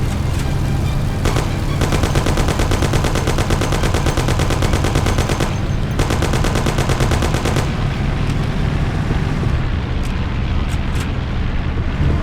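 Sustained gunfire from the video game Mafia: The City of Lost Heaven, dense rapid bursts of automatic fire and shots filling nearly the whole stretch, loud and close, with brief pauses and scattered single shots toward the end.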